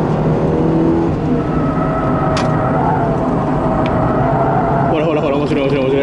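A Mazda NA Roadster's engine whirs and rises in pitch as the car accelerates around a course set up for steady-state circle practice, heard from inside the cabin with a person talking over it.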